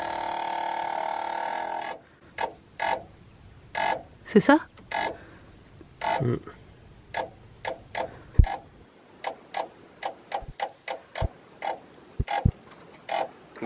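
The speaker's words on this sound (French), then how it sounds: "Le coupeur séparateur de batterie qui fait du bruit" A camper van's battery isolator gives off a series of sharp mechanical clicks and ticks at irregular intervals, close and fairly loud, with a brief sweeping whine, after an opening stretch of steady broadband hiss; one short spoken question.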